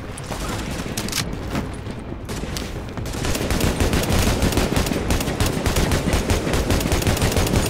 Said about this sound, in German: Aber er schießt gerade auf mich.